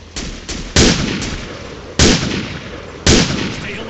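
Rifle gunshots in the video game Marine Sharpshooter 4: three loud, sharp cracks with ringing decay at roughly one-second intervals, preceded by a couple of softer shots, alone without speech.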